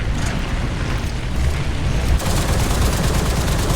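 Tank cannon and machine-gun fire in War Thunder as BT-5 and BT-7 light tanks engage an LVT, a loud, dense barrage of booming shots and rattling bursts with no pause.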